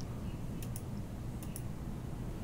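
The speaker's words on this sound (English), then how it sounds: "I'm typing questions." Quiet keyboard typing during a tabletop role-playing session, a few soft clicks and taps scattered over steady background noise, no speech.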